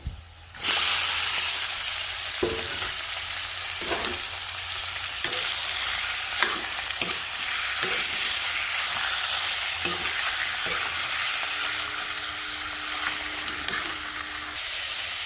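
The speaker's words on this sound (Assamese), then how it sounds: "বইলাৰ মাংস এতিয়া এইটো ভাজি লং" Broiler chicken meat fries in a pan with onions, a steady loud sizzle and hiss running throughout, broken by occasional clacks of stirring utensils against the pan.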